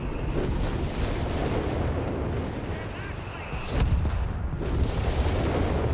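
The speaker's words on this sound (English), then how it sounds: "More bombardment, more artillery" Artillery bombardment in Company of Heroes 3, a steady roar of shelling with booming impacts, one sharp blast standing out near the middle, and a voice talking over the battle noise.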